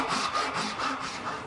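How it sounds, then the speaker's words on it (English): Hand saw cutting a wooden snowman nose to length, a close, rhythmic back-and-forth rasp of several quick strokes with no talking. "when you have finished the sanding, you just want to cut the nose to length"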